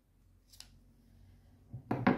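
Scissors snip through gray knitting yarn during Fair Isle knitting, a faint close click followed by a sharper, louder cut near the end.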